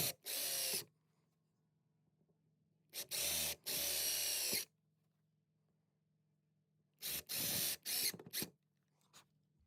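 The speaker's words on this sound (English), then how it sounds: "Simply use the drill bit to drill our starter holes" A power drill whirs in three separate bursts drilling starter holes for wall anchors, some short and some longer, with brief pauses between them; close and loud.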